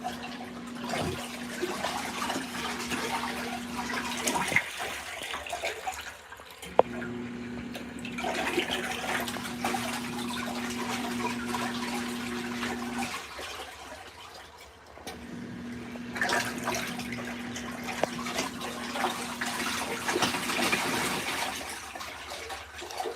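An LG ThinQ MEGA Ultimate washer on a light wash cycle sprays water during Turbo Wash, giving steady rushing and splashing in repeated bursts over a constant motor hum, with brief pauses between spray phases.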